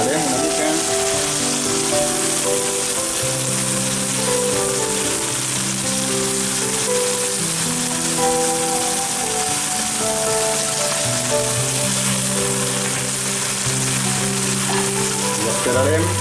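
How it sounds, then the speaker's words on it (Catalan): Red pepper fries in a pan in a busy restaurant kitchen, a dense continuous sizzle like rain on a surface, loud and close, with faint background voices throughout. "Ara hi afegirem una mica de pebrot vermell. Remenarem una mica."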